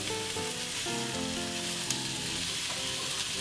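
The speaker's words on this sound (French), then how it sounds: "Vous prenez délicatement les ingrédients pour les poser dans votre casserole, pour pouvoir les faire revenir." Ingredients for a Japanese curry sauté in hot oil in a small saucepan, giving a steady, close, dense sizzle that runs unbroken throughout with no voices.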